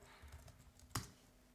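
Soft keystrokes on a computer keyboard as a Linux network command is typed, faint and close, ending in one sharper key press.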